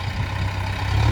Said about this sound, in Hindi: भाइयों आवाज़ बहुत धांसू है ट्रैक्टर की